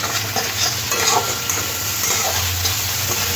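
A spoon stirs a spice paste of turmeric and cumin with a little water in a hot pan for a tangra fish and potato curry. Steady sizzling runs throughout, with soft scraping strokes from the stirring close by.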